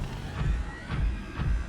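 Three deep, breathy pulses about half a second apart, each with a low rumble and a faint whooshing rise, from a Warper creature in Subnautica.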